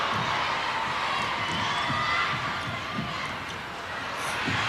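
A large Australian crowd at the 1991 netball World Cup final cheers and roars steadily, with a loud wash of voices and ball bounces thudding faintly underneath.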